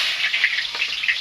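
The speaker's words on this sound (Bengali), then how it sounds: "তেলটা গরম হয়ে গেছে। দিয়ে দেবো পেঁয়াজ" Onions dropped into hot oil in a wok, giving a bright, even sizzle that holds steady throughout a brief moment, close by with no voices.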